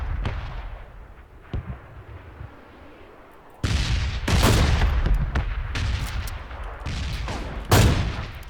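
Gunfire in the battle royale game PUBG: a couple of faint early shots, then a loud burst of heavy, overlapping rifle reports with crackling echoes over several seconds, close and dense, with no talking.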